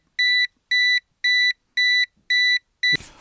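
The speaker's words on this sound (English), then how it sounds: "you can hear the unit beeping and showing all 4 colors" Six evenly spaced, loud electronic beeps from a RANGERHINO non-contact voltage tester detecting a live line ring out in a steady rhythm, followed by a brief rustling noise at the end.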